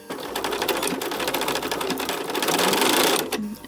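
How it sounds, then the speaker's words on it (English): A sewing machine stitches a quarter-inch seam along the edge of a quilted mug rug, a fast, even mechanical chatter running close and loud for a few seconds before stopping. "So you're gonna go ahead and sew a 1/4 inch seam allowance here on the edge."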